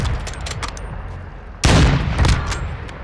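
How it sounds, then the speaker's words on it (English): Gunfire in Warzone 2.0: scattered shots early on, then a sudden loud burst of rapid fire and booms at close range, continuing in bursts without speech. "I'm taking fire!"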